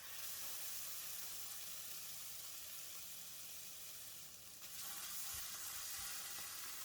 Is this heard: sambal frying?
yes